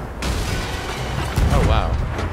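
Ship cannon or gunfire in Sea of Thieves aimed at a ghost ship: a sharp blast opens, then a heavier boom follows about a second later, loud and close, with speech mixed in.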